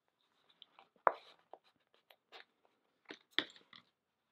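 Paper gift card holder being folded and creased by hand, with a handful of sharp crinkles and scrapes spread irregularly, the strongest near the start and toward the end, close and fairly quiet with silence between.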